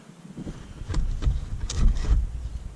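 Outdoor wind buffets the microphone in low rumbling gusts that swell and ease over a few seconds, with faint rustling above, close and moderately loud.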